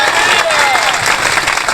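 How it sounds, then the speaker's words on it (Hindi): A congregation claps hands during a Hindi-language Christian church service, a dense, steady patter of applause running through the whole moment with a murmur of crowd noise beneath it. "ताली बजा"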